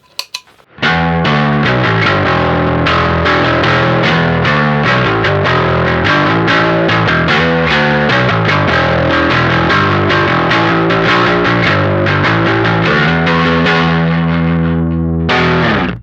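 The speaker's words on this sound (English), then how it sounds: "Let's hear how the Noble Tone sounds on bass." A bass guitar played through a Harby Pedals Noble Tone drive pedal, giving a thick, overdriven tone as steady notes and chords ring continuously and loudly for about fifteen seconds before cutting off.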